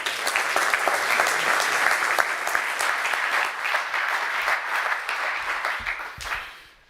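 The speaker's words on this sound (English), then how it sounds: "I ask you to welcome and clap your hands for the Prime Minister once again, Alexander De Croo." Sustained applause from a seated audience at a biopharma platform launch, greeting Belgian Prime Minister Alexander De Croo. The steady clapping holds for several seconds, then thins out and fades.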